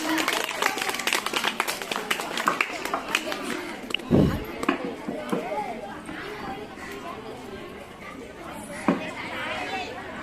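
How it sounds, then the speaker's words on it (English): Students in a school English language club clap to welcome presenters, light, uneven clapping mixed with chatter and children's voices, one loud thump partway through. "Give a big clap to welcome them"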